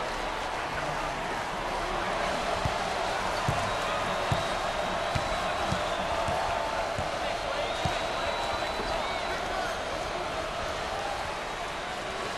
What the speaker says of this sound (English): The crowd is thunderous.